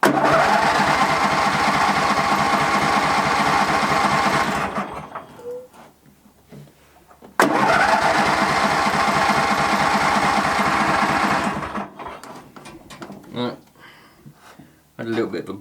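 A Hayter H19/40 lawnmower engine fires up and runs with a loud, rough, close chatter, cuts out and sputters, then restarts with a sharp burst and runs again before dying away; a person talks faintly in the pauses.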